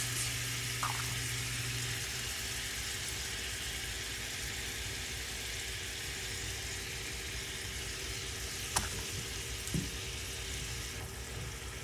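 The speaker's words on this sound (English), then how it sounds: "we are just going to cook this on a low heat until it is like kind of thickened" Pork sausage pasta sauce with tomato paste simmering over low heat in a pan, giving a steady, soft, continuous sizzle and bubble from close by, with a couple of faint clicks and no talking.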